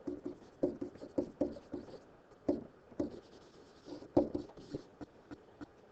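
Pen scratching out a physics equation by hand, a steady series of short scratchy strokes and taps close to the mic, with no voice.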